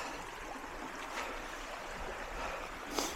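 Water in a forest stream flows over rocks beside a trail, a soft continuous rush with a few faint splashes and no voices.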